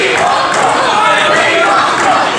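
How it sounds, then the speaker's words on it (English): A dense arena crowd at a women's pro wrestling tag-team match roars and chants continuously, loud and unbroken, with a blur of voices filling the hall. "And the crowd still chanting for Brooke."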